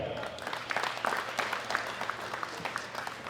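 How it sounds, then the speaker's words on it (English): Audience applause at the 2018 World Classic Powerlifting Championships, men's open 120+ kg class: steady, fairly faint clapping from a crowd in a hall, lasting a few seconds. "A big round of applause for Dr. Robert Keller."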